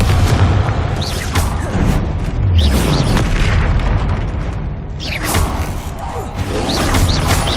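Confringo fire spell blasts in Hogwarts Legacy go off as loud, deep booms and crackling bursts amid dense combat noise, with several impacts and a voice briefly shouting.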